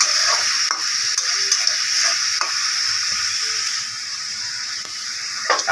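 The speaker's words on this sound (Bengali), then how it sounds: "এবার ভালোভাবে নেড়ে চেড়ে কষিয়ে নিচ্ছি।" Potatoes and pointed gourd sizzle steadily in a hot pan as they are stirred and fried, a constant hiss with soft scraping strokes at irregular intervals, close and fairly loud.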